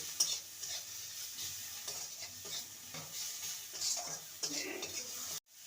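Spices with chili powder and cumin powder being stirred in a frying pan, a continuous sizzle under repeated scraping and clinking of the spoon against the pan, ending in an abrupt cutoff.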